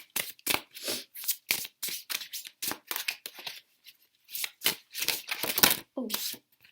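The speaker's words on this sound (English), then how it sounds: "Let's try shuffling this way." Tarot cards shuffled by hand in quick bursts of riffling and sliding, close and clear, broken by short pauses before starting again.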